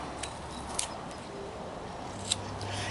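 A knife whittles wood for a carving of an alien figure, making a few faint, sharp snicking cuts spaced apart over a quiet background, with no talking.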